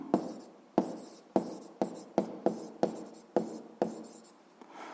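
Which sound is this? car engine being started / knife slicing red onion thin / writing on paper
writing on paper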